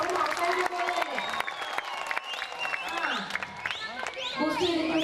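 Audience clapping at a Mappilappattu music stage show, a sustained wash of applause under an amplified voice, with crowd noise and stage sounds mixed in.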